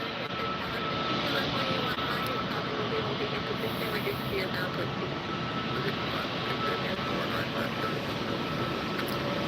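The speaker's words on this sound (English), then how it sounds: "Another Bombardier Challenger 300." Bombardier Challenger 300 business jet arriving at Tampa airport, a steady broadband engine roar holding evenly at moderate distance throughout, with a voice talking over it.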